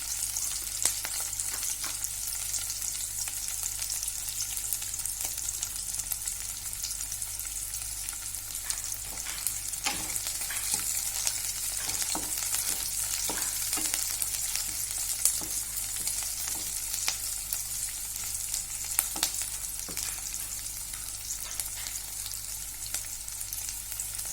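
Onion and green chili sauté in a pan, giving a steady, even sizzle and crackle with occasional stirring clicks, close and continuous throughout with no talking.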